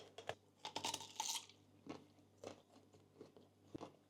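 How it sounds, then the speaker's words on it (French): A crisp bite into a piece of fruit, with several sharp crunchy bursts close up near the start, followed by softer chewing and crunching sounds at intervals. "Vas-y, viens, on le croque."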